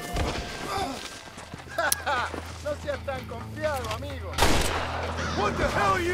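Gunfire in Red Dead Redemption on PS3, a burst of sharp shots cracking out amid game noise, heard under character voices and in-game chatter.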